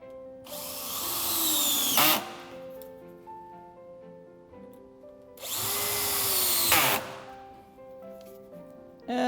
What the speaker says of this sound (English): take our handy power drill and tighten these up so that they're attached nice and secure